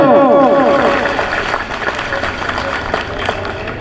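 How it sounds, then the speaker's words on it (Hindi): A large outdoor crowd at a teachers' hunger-strike rally claps loudly, a thick rolling patter of many hands that carries on steadily, with some voices and amplified echo mixed in. "इनके लिए जोरदार ताली होनी चाहिए मित्रों।"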